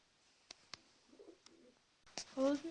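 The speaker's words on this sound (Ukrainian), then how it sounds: "Вже починають воркотіти голуби." Soft pigeon cooing close by, with a few clicks and quiet rustling, ending in a louder murmuring coo.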